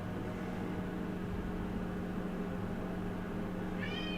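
A cat meows in a steady, squeaky run of cries over a constant low hum and hiss, each meow close and fairly quiet, with a higher chirp near the end.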